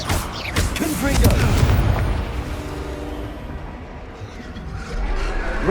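A Confringo blasting curse detonates in Hogwarts Legacy, a loud booming explosion up close that rolls and rumbles away into a fading tail before a second dull thud.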